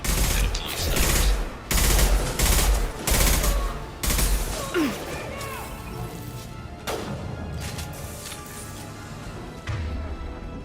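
Sniper rifle fire in Mass Effect 2 booms out as a run of heavy, close, roughly evenly spaced shots, followed by quieter thuds and softer impacts.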